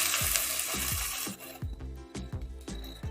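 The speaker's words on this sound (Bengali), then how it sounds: "এবার দিয়ে আমি ভালো করে ভাজা ভাজা করে নেব পেঁয়াজটা" Onion paste frying in a pan for doi katla, a yogurt-based catla fish curry, gives a steady close sizzle that thins out partway through, under a regular series of soft knocks and scrapes from stirring.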